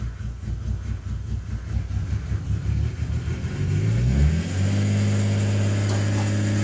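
A 1991 Nissan Skyline R32 GTS engine cranks, catches and settles into a loud, steady run with rising revs, close by and with no talking.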